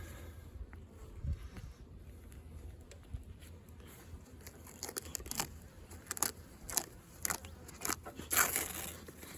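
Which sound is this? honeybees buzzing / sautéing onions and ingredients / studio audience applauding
honeybees buzzing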